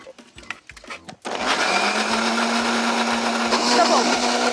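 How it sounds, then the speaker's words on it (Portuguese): Blender whirring loudly and steadily as it purees a red fruit sauce of strawberries for a Japanese cheesecake, starting after a second of kitchen clatter and running continuously to the end. "A gente vai bater essa calda no liquidificador"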